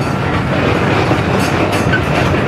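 A ride-on amusement park train runs at Fairytale Town, giving a loud, steady, close rumble of wheels and carriage noise with no voices over it.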